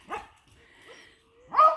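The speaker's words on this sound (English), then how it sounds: "I had my puppy dog going crazy because the chickens are moving." A puppy dog barks at nearby moving chickens, two short yappy barks close to the mic separated by a quiet pause with a faint whimper between them.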